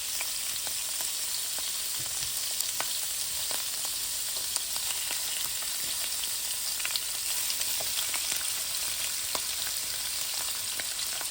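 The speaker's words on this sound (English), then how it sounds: "First we're gonna toss these shrimps in there." Shrimp sizzling in a buttered pan for a Cajun shrimp and sausage pasta, a steady bright crackle with scattered pops and light stirring, close and continuous with no talking.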